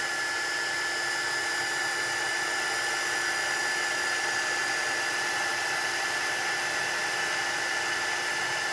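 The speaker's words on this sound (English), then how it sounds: "we're going to hold the heat gun still, and then as soon as we see that powder start to melt and change" A heat gun melts embossing powder on a stamped card, giving a loud, continuous blowing whir that holds steady from start to finish.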